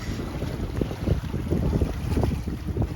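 A sailboat motors under engine power through choppy water, with heavy wind buffeting the microphone and a low churning rumble close by.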